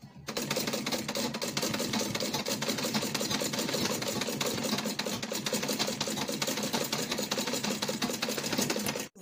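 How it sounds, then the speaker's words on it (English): A sewing machine stitches a straight seam joining two pieces of Ankara fabric, good sides together, for a baby puff duvet, running steadily and loud with no pauses for about nine seconds. "So we are going to stitch here straight."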